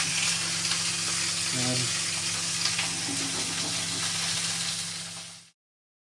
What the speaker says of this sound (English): I'm not a massive fan of the sizzling